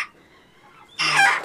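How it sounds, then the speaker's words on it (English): A chicken being caught from a backyard flock gives a loud, sudden squawking cluck after a brief quiet stretch, close by and alone. "Let's put some weight on there, little chicken."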